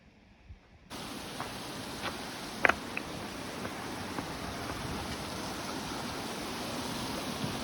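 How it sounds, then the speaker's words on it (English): Steady hiss of rain begins abruptly and continues evenly, with a few faint taps on top. "we are hiding in our tents from the rain"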